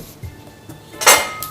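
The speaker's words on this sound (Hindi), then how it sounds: "इन सबको हम अच्छे से मिक्स कर लेंगे।" Spoon scraping and clinking in a pan while roasted poha, puffed rice and makhana are mixed together for namkeen makhana chivda, a few light scrapes building to one louder rattling clatter, then quieter.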